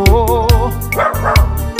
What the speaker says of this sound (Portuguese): E o cachorrinho latindo, pedindo churrasco.